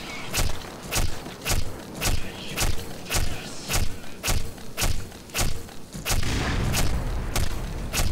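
Rapid, evenly spaced shots from the player's weapon in Black Mesa, about a dozen sharp loud bursts roughly every half second, with a dense roar of continued fire toward the end.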